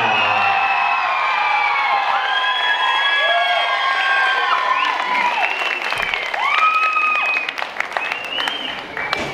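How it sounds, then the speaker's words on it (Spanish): Guests at a quinceañera clap and cheer together, with whoops and high shouts rising over steady applause, lively and close throughout. "fuerte, fuerte, grande aplauso para Marilyn Angélica."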